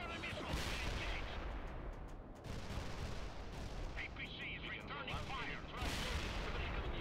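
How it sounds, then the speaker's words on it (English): Heavy gunfire and artillery-like blasts from an APC battle in the World in Conflict Soviet Assault video game, dense and continuous for several seconds with surging bursts, loud and close. "APC is returning fire!"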